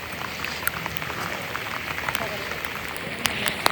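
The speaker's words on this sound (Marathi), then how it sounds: "बस पाऊस आलेला आहे फायनली." Steady rain falls with a soft, even hiss and scattered drop taps, close and moderately loud, during monsoon weather at Matheran hill station.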